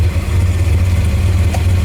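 A 1969 Chevelle's 700-horsepower V8 idling steadily at 1,000 rpm, a deep even rumble that holds constant throughout with no revving.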